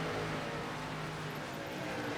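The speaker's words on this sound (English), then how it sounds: "A little more engine noise." The simulated ARCA race car engine in iRacing at Iowa Speedway gives a steady, dense droning roar that holds at an even, moderate level throughout.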